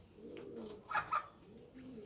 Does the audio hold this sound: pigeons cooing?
yes